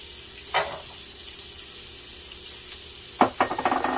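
Shrimp fried rice with corn sizzles steadily in a pan, a constant soft frying hiss broken by a couple of brief stirring scrapes, heard close and with no talking.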